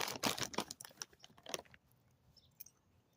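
Chocolate and vanilla flavored popcorn is chewed close up, a quick run of light dry crunches for about a second and a half that then fades to near silence with a last faint crunch.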